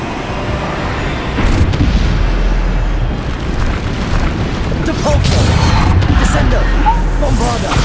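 Bombarda spell explosions from Hogwarts Legacy combat boom loudly in repeated bursts, crashing and rumbling amid other game effects while a voice talks over the action.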